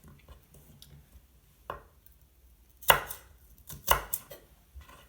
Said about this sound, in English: For the celery, cut into manageable pieces.